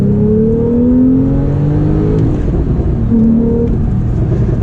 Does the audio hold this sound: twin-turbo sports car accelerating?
yes